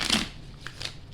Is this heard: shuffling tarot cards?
yes